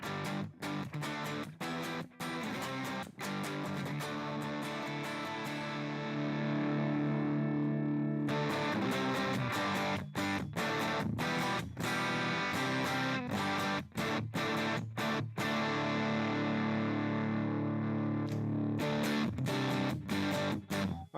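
Distorted electric guitar played through a Fractal FM9 amp and cabinet modeler, with chugging palm-muted riffs and sustained chords broken by short stops, loud and up close with no talking.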